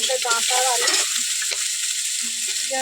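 Potatoes and vegetable stalks frying in oil with salt and onion, a loud steady hissing sizzle running throughout with occasional stirring scrapes and faint background tones.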